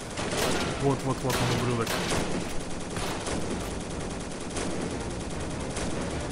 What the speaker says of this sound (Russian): Ой-ой, меня стреляют.